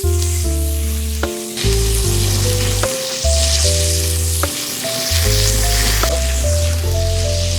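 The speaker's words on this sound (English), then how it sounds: "We're gonna go in with the rest of the vegetables now that we got these onions caramelizing down." Onions and other vegetables fry in beef tallow left from a chuck steak on a hot griddle: a loud, steady, close sizzle that keeps going, with tonal hum running underneath and no one talking.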